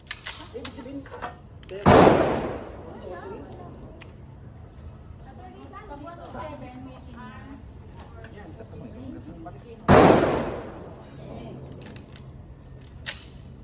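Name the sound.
gunshots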